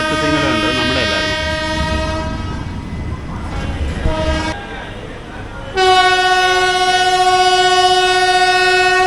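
The 17230 Sabari Express pulling out of Nellore station, with loud, sustained horn blasts, a pause filled by rumbling carriages, then a strong steady horn resuming close by.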